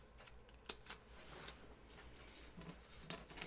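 Quiet, irregular snips and small clicks of scissors clipping notches in fabric, a few sharper ones standing out, close by with no talking.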